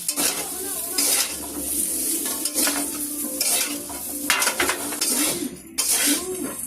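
Vegetables stir-fried in a small wok over a gas burner, a steady sizzle and fry with repeated scraping and stirring clatter of a spatula against the pan, close and continuous.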